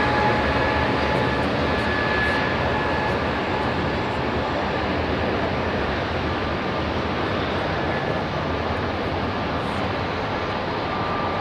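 A Boeing 787 airliner at London Heathrow Airport gives off a steady, broad jet roar with a faint high whine, continuous and fairly distant, with no voices.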